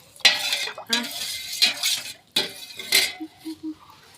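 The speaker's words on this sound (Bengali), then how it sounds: "আমি এটাকে আলুটাকে মাখি" Potatoes worked by hand in a metal bowl give soft squelches and bright clinks of dish and utensil in uneven bursts, with a few faint voiced sounds near the end.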